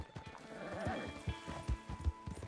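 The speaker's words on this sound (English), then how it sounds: "See, now that's a mountain horse." A mountain horse's hooves clop in uneven bursts as it moves over rough terrain in the video game Red Dead Online, fairly faint, with occasional talk nearby.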